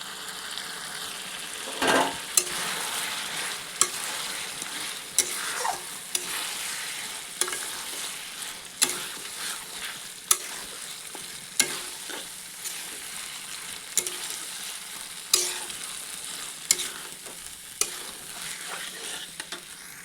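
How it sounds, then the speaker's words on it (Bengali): Chicken coated in salt and turmeric, stir-fried with spicy masala in a pan for village-style chicken curry: a steady sizzle broken by repeated sharp scrapes and clanks of the spatula, close and fairly loud, with no talking. "এরপর এটাকে 10 মিনিট কষাতে থাকবো মাংস আর মশলা সঙ্গে"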